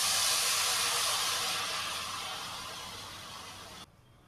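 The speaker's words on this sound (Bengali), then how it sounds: "পাশের গ্যাসে আমি গরম জল বসিয়ে দিয়েছিলাম, সেটা এবার এর মধ্যে দিয়ে দেবো।" Hot water hits frying spice paste for a Bengali fish curry, a loud steady hiss of steam and bubbling that fades gradually and cuts off abruptly near the end.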